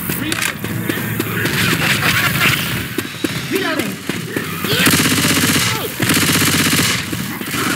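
Rapid bursts of automatic gunfire from the zombie shooter Left 4 Dead 2, dense and loud with repeated volleys, mixed with game effects and players talking over the shooting.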